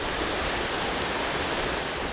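A summer waterfall at Plitvice, Croatia, roars as a dense, unbroken wash of falling water and spray, loud and close, with no voices.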